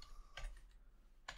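A few isolated keystrokes click on a computer keyboard while Python list items are entered, with sparse, quiet taps heard close up against a low hum.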